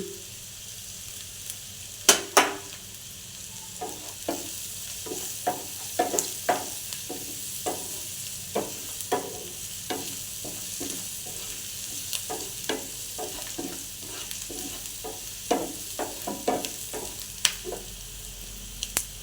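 Onions fry with turmeric in a pan toward golden brown, giving a continuous sizzle broken by sharp, irregular scraping knocks as a spoon stirs them, close and without talk.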